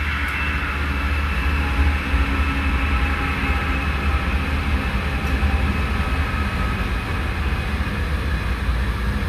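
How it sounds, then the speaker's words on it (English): A passing train heard near a glassblowing studio: a steady, loud broadband rumble with low-frequency roar and a sustained high whine, continuous throughout with no talking. "So here comes another train."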